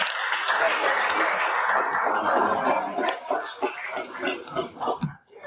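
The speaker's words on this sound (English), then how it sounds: "Please, can we give another round of applause?" An audience claps at a conference presentation at Godfrey Okoye University: a full, dense round of applause that holds for about three seconds, then thins into scattered, fading claps.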